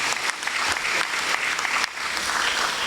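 Brief burst of crowd clapping at a school prize giving ceremony, dense and continuous with a few sharper individual claps standing out.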